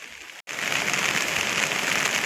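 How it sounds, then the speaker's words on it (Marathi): Soft, steady patter of light evening drizzle falling on surfaces after a brief silence, an even close wash of fine drops. "पाऊस पण चालाय पा रिमझिम"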